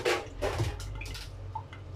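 Water drains from cucumbers in a strainer, a close, continuous splashy trickle with small drips throughout.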